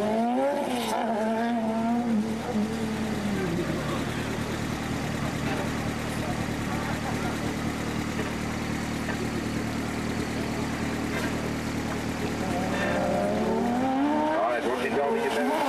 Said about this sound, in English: He gets the power down there. The back end just started to break away.